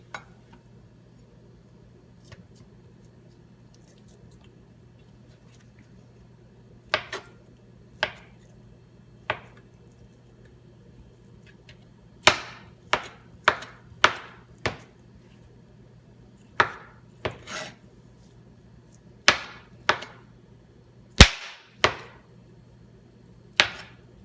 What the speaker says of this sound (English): just sort of chop it to get it kind of more diced